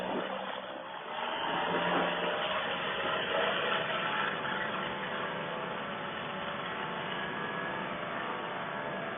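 A small aircraft's engine throttles up for takeoff, rising into a loud, steady drone with a rough mechanical hum that fills the whole stretch without a break.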